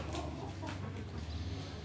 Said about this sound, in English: And you have some chickens there.